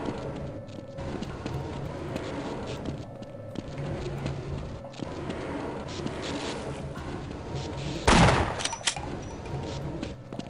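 Video game gunfire bursts through a dense, rumbling battle mix, with a sharp louder blast near the end standing out above the steady background noise.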